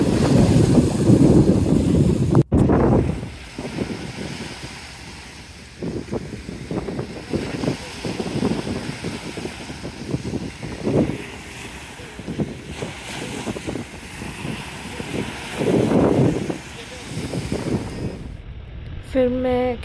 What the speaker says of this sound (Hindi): उस पर जब वेव्स आ रही थी पानी की, तो मैं उसको ऐसे ही रिकॉर्ड कर रही थी वहाँ पे खड़े होके।